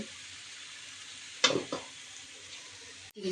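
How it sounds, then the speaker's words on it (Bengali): Fresh bottle gourd greens with small potatoes sautéing in a pan give a quiet, even sizzle, broken by a brief clatter of stirring midway and a knock at the end. "শাকগুলো দিয়ে দিয়েছি আর এখন একেবারে কষে নেব"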